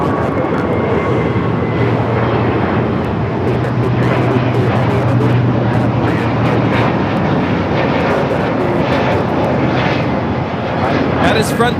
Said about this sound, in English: Frontier 1756 taking off to Houston Intercontinental on the A321neo